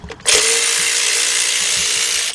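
A cordless ratchet spins a bolt on the timing chain job of a 2014 Volkswagen Beetle 2.0, one loud, close motor whir lasting about two seconds after a brief start, with no talking.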